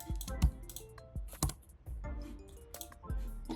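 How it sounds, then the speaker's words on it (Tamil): Quick bursts of keystrokes on a computer keyboard, irregular clusters of crisp clicks and thumps with short pauses between them, close and clear with no voices. "இப்போ அதாவது தமிழ் ப்ரோ டைப் பண்ணுறேன்"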